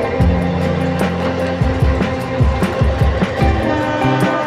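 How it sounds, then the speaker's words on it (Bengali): A Naihati local train overtakes the Teesta Torsa Express, its steady rolling rumble and rhythmic wheel clatter heard close and loud throughout, without speech. "এবার নৈহাটি লোকাল আমাদের ট্রেনকে ওভারটেক করছে"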